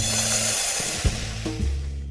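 Dry rice dropped into a pan to mimic rain makes a steady, dense hiss of tiny grains pattering on metal, with a few sharper clatters toward the middle and a low hum underneath.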